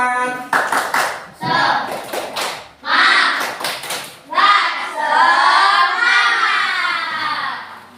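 An Indonesian school class does a rhythmic spirit clap in several loud, close bursts of group clapping with short pauses, mixed with young voices chanting along.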